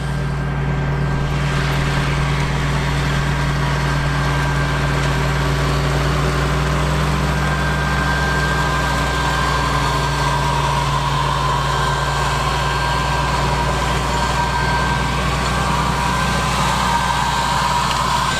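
A John Deere 8330 tractor fitted with an 8-row cultivator idles up close, its diesel engine holding a steady, even low rumble with a constant hum throughout and no voices.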